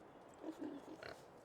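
Farmyard pigs in the Farming Simulator game give a few short, faint grunting oinks in a quick cluster, set against a low steady game ambience.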